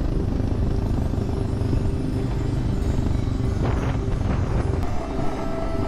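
Motorcycles ride a sandy desert track toward the Cahuachi site near Nazca, Peru, giving a steady, dense engine rumble heavily mixed with wind buffeting the microphone, with no clear change in pace throughout.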